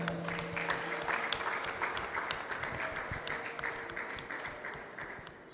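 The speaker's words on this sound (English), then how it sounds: "please, one more time, round of applause for them." A round of applause from an audience at a Bible and ministry training centre, a dense crowd of clapping hands with some distinct sharper claps, tapering slightly toward the end.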